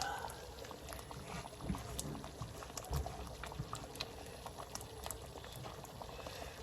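Mixed masoor and moong dal cooking in a pot on a gas stove, a faint, continuous bubbling simmer with soft pops, and a voice murmuring quietly in the background.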